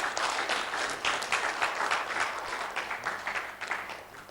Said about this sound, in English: that applause is not as loud as it ought to be.